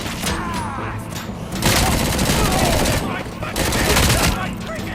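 Rapid bursts of gunfire from the RoboCop: Rogue City shooter game, dense and loud, with booming impacts and a voice talking over the shooting.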